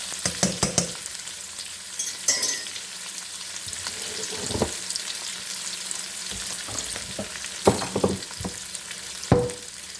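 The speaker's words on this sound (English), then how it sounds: "And we're gonna saute this for a minute or two" A pork mixture for pinakbet stew sautés in a pan under a continuous sizzle, broken by repeated sharp scrapes and clacks of a utensil stirring, close and fairly loud with no talking.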